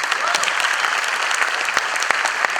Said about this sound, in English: let's have a big round of applause for all the engineers in the house.